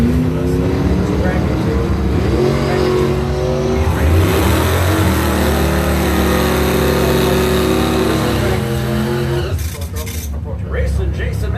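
Drag racing cars launch and roar down the strip at a qualifying event, a loud, sustained engine howl that climbs in pitch before easing off near the end, with announcers talking over it.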